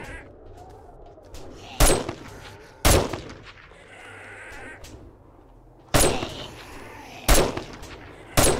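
Gunfire in the 7 Days To Die video game: five loud, sharp single shots spaced a second or more apart, standing out over a quiet game background.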